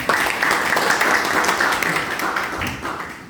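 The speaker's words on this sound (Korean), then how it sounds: "우리 행정혁신을 주도하는 이양진 시장님 큰 박수 모시겠습니다." A Korean audience applauds at a public talk on local autonomy, with steady, dense clapping that fades slightly near the end and a brief fuller swell just before it.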